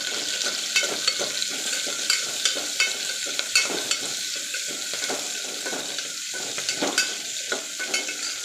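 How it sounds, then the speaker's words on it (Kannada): Onions fry in a pan under a constant sizzle, punctuated by regular scraping stirs and light knocks of a spoon against the pan, close and unaccompanied by talk. "ಈರುಳ್ಳಿನ ಚೆನ್ನಾಗಿ ಫ್ರೈ ಮಾಡೋಣ."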